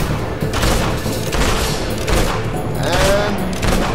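Dense volleys of gunshots from Fable II echo in quick succession, booming and continuous at close range amid the game's battle noise, with faint talk underneath.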